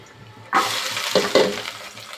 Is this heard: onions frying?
yes